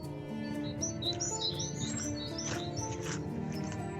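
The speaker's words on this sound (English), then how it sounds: "Plenty of bird call about that at the moment." Birds chirp and call repeatedly along a track at Thameside nature park in Thurrock by the river, with bright overlapping tweets over a steady low background hum.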